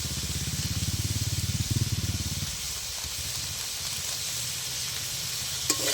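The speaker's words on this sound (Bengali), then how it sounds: "আরও একটু কষিয়ে নিচ্ছি" Spiced masala with Kashmiri chili powder fries in oil for a kuche fish curry, a constant close sizzle with rhythmic stirring strokes early on that fade into a quieter, even hiss.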